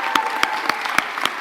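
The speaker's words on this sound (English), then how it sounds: "Today is all about lots of clapping" Audience applause at a university commencement ceremony, a brief burst of clapping with several sharp louder claps standing out over a steady patter from the crowd.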